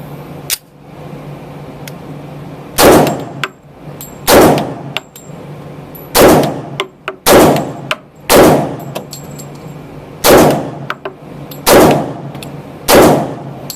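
Unsuppressed FN FNX-45 Tactical pistol fired outdoors, about nine sharp, loud shots spaced roughly a second or so apart, each with a short ringing decay, no talking.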